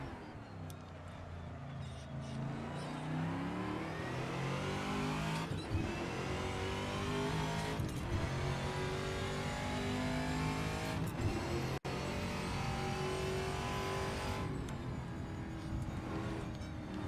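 A Trans Am TA2 class V8 race car in Assetto Corsa roars loudly and continuously, revving up through the gears with several brief drops at shifts, with faint tire squeal.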